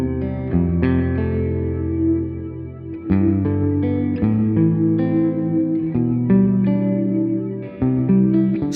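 Electric guitar through a TC Electronic Infinite Sample Sustainer pedal set to huge reverb and an exaggerated slow flanger, playing sustained melodic notes and chords that swell and overlap in a wash of long, shimmering tails, loud and alone.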